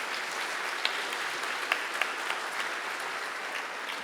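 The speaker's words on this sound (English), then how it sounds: "One more round of applause for these students," Audience at a scholarship awards ceremony applauding the student recipients, a steady wash of clapping from a crowd with a few sharper individual claps standing out, continuous throughout.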